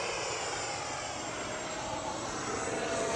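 An FMS F-86 80mm electric ducted-fan RC model jet makes a high-speed pass down the runway, its continuous loud rushing whine steady throughout with a faint rising tone, no voice over it.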